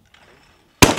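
A single loud shotgun blast at a clay target crossing from left to right rings out sharply near the end, after a stretch of near silence.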